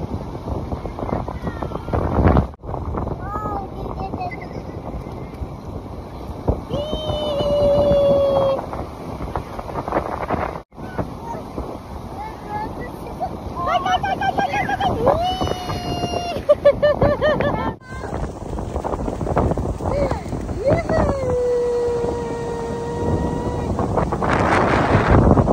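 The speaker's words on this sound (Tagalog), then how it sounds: "narinig nyo naman, sobrang lakas ng hangin" Strong beach wind buffets the microphone throughout, a loud continuous roar with gusts, while distant voices and children's calls drift faintly underneath.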